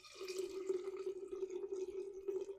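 Nolet's gin poured out for a batched cocktail, a soft trickling flow with a steady liquid tone and small splashes, faint and close.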